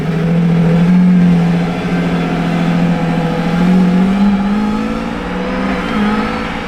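A purple Lamborghini Revuelto engine revs close and loud, its pitch swelling and falling in a few smooth pulls with a steady droning tone underneath.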